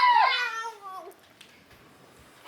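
Cat meowing up close, one loud drawn-out meow that fades within about a second, followed by quiet room tone.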